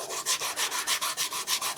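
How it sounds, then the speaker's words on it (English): Hand sanding on a hat, brisk regular back-and-forth strokes of coarse scratchy rasping, about six passes per second, close up. "Second step, sand it again."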